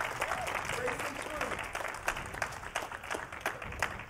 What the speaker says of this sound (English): give God a great big hand of applause today.